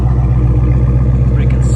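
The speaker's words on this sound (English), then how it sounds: "Hear that exhaust." A 2014 car with a 6.1 HEMI V8 idles with a deep, throaty exhaust rumble, then revs slightly, close by and loud.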